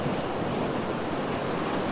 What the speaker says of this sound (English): Here comes a good wave. We'll get this one as it crashes over those rocks.